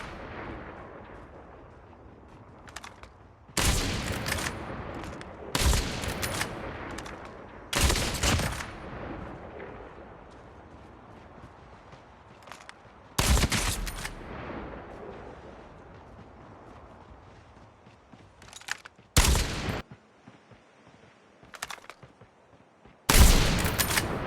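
A sniper rifle in a mobile shooter game fires in a string of sharp, heavy booming shots, each with a short rumbling tail, spaced a few seconds apart with quieter ambient game noise between, no voices.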